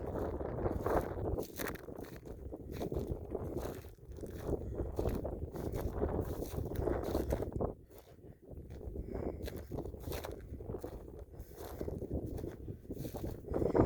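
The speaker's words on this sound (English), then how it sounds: "A little bit windy." Steady outdoor wind buffeting the microphone, a continuous low rumble with gusts that swell and ease, briefly dipping midway before picking up again.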